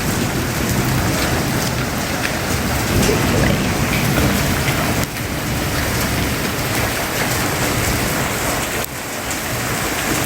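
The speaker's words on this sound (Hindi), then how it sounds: "मोटी मोटी बूंदे, भारी बड़ी बड़ी सी।" Heavy rain pours steadily and loudly, a dense drumming of large drops hitting surfaces nearby with no pauses.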